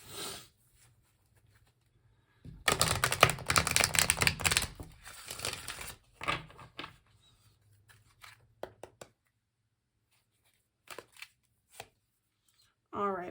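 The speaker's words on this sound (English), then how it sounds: "Let's go ahead and shuffle one more time." A deck of oracle cards is shuffled in a dense riffling burst of a few seconds up close, followed by scattered lighter card taps and handling sounds among quiet gaps.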